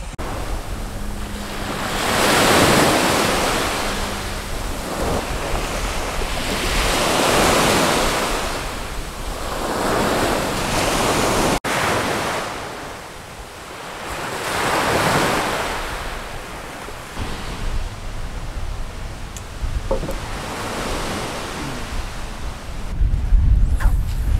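Waves wash onto a tropical North Queensland beach at Palm Cove at dawn, in slow, rolling surges every few seconds, with steady broadband surf and wind noise throughout and no voices.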